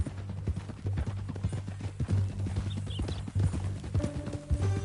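A horse in the Red Dead video game clip-clops along at a steady walking rhythm, with crisp, close hoofbeats over a low ambient hum and a soft musical tone rising near the end.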